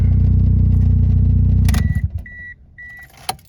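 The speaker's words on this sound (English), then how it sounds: "Take our key out." Keys jingle briefly as a running engine cuts off, followed by a couple of repeating electronic chimes and a small click.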